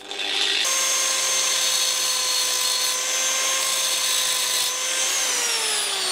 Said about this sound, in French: On va venir tailler dans son filet à la meuleuse d'angle.